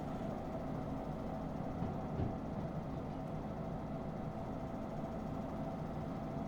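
A locomotive engine in the train game Derail Valley idles with a low, continuous rumble and faint vibration, steady and unbroken, with no talk over it.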